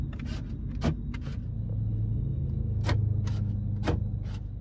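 Power door locks on a 2003 GMC Sierra 2500HD truck clunk several times in sharp, separate actuations over a low cabin rumble, close inside the truck.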